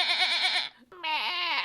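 Person imitating a sheep's bleat in a bedroom, two wavering, quavering bleats close to the mic with a brief pause between, voiced alone without other talk.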